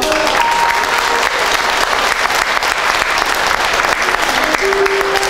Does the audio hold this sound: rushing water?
no